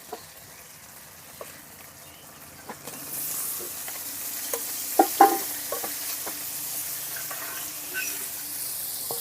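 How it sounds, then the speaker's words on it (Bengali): Onion and garlic hit hot oil with bay leaf and cumin in a pan, a soft hiss that swells after a few seconds, with scattered clinks of stirring over a low steady sizzle. "এখন আমি তেলের মধ্যে দিয়ে দেবো পেঁয়াজ আর রসুন।"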